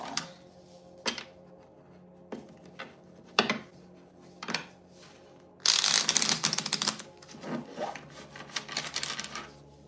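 Tarot cards being shuffled: scattered soft taps, then a longer rapid riffling burst followed by a few more shuffles, close and alone.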